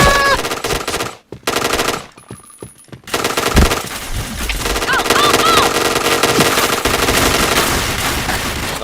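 Rapid automatic gunfire from a shooting video game, dense bursts that cut out briefly twice before resuming as a loud, sustained volley with a few crisp single shots.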